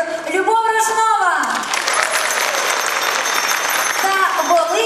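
Audience applause at a nativity carol performance, steady clapping that swells under a voice at the start and continues with more speech overlapping near the end.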